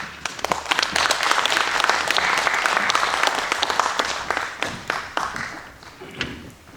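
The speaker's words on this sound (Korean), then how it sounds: "큰 박수와 함께 앞으로 모시도록 하겠습니다" Audience at an arts center forum applauds as the chair is welcomed to the front, steady dense clapping throughout with individual claps standing out near the end.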